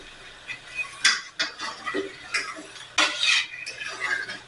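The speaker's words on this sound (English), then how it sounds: "we're gonna stir this, loosen everything, break it up. Use a metal spoon." A metal spoon stirring and scraping to loosen hardened bits in a pan for duck à l'orange, with irregular close scrapes and clinks at moderate volume.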